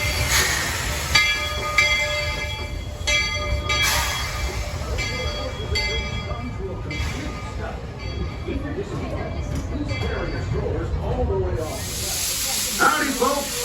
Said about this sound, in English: it's only a matter of time for train arrives